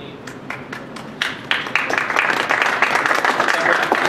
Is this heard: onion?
no